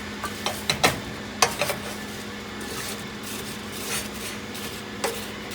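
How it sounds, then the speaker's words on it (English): A spoon gently stirs apples in a pot on a home stove, with a few sharp clinks of utensil against the pot early on and soft scraping and faint sizzling between them. "So I'm going to kind of just stir this very gently"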